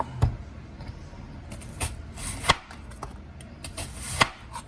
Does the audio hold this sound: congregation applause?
no